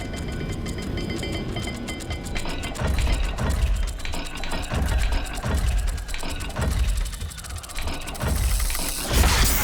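A puzzle dial in Hogwarts Legacy turns with repeated ratcheting clicks and grinding gear sounds, steady and rhythmic, ending in a brighter whoosh.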